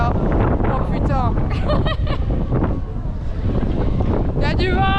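Strong wind outdoors during a trip to Prague, roaring and buffeting the microphone continuously throughout, with people talking over the gusts.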